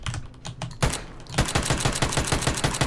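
Automatic gunfire in PUBG, a few scattered shots followed by a rapid, evenly spaced stream of loud, close bursts.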